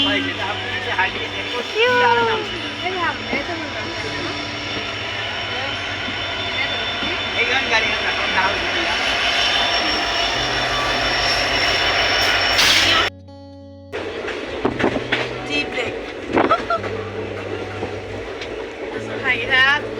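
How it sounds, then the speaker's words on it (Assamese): A passenger train rumbles along steadily on a journey toward Lakhimpur, with a brief drop partway through. People talk over the constant running noise. "ট্ৰেইনখন আহি পালে।"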